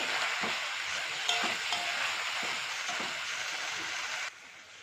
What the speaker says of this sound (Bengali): ভাজা আলুটা দিয়ে দেবো